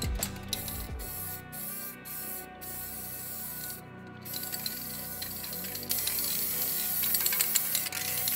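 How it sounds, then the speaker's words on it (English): A spray can coats MDF sheets with paint in short hissing bursts separated by brief pauses, then a longer, louder continuous spray toward the end, close and with no talking. "start spray painting all of the colors"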